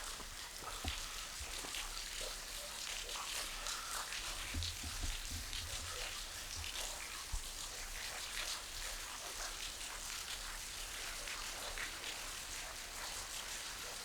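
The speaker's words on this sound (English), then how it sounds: "It's starting to rain again." Light rain falls steadily in a canyon during a sudden shower, a soft continuous hiss with scattered drop patter, fairly faint and even throughout with no talking.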